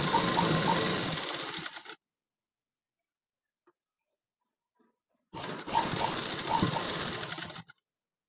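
Sewing machine stitching the lining of a sleeve potli, two close bursts of rapid mechanical whirring separated by about three seconds of silence, no voices.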